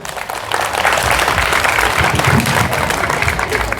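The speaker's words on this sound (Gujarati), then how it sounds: "બે હાથ ઊંચા કરીને જોરદાર તાળી વગાડી દો" A large audience at a Janmashtami festival talk breaks into loud, sustained clapping that swells within a second and holds as a dense, continuous roar of applause.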